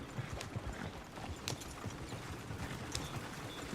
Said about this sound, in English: The horses! Damn horses!